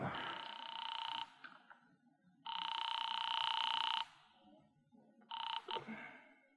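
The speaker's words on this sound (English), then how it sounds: "Sam, boy, I am actually ringing North Tacoloma 3" Radio drama sound effect of a telephone ringing: two long electronic rings followed by a shorter third burst, clear and close, with quiet gaps between.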